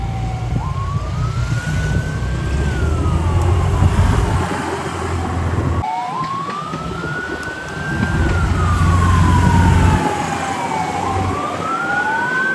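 An ambulance siren wails loud and near, sweeping up and down in long continuous cycles over the rumble of traffic.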